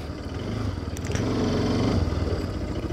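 A motorcycle is being ridden in and parked outside a bank, its mid-pitched engine running steadily and close, rising slightly before settling, with some clatter and no talk.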